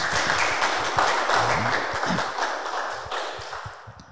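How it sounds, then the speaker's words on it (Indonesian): A Grade 10 class clapping for a student speaker after a Ramadan talk, a steady wash of many hands that gradually thins and fades over four seconds, with no speech over it. "Tepuk tangan untuk Mas Ilham Bagus."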